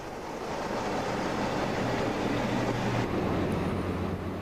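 A Class 47 diesel-electric locomotive on a loco-hauled service, a steady low engine drone with rumbling rail noise continuing throughout at moderate distance, no voices.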